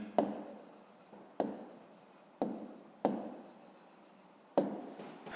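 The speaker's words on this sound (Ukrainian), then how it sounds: "Ну, а тепер записуємо відповідь, пишемо відповідь." A pen writing an answer on paper during a fifth-grade math exercise, five distinct close strokes scratching in an irregular rhythm, quiet and without talk.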